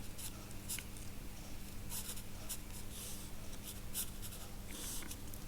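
A pencil sketches an African animal drawing on paper with soft, scratchy strokes that come in short bursts over a steady low hum, close and quiet, with no talking.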